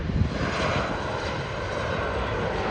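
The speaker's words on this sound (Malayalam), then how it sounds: "ഇവിടെ ഇപ്പോൾ റെയിൽവേ സ്റ്റേഷൻ്റെ പുറത്തിറങ്ങി അതിലൂടെ ഒരു ഫ്ലൈറ്റ് വരുന്നുണ്ട്" An Air India Express airplane flies over near the Bengaluru airport railway station, a loud, steady, broad roar that fills the whole stretch without a break.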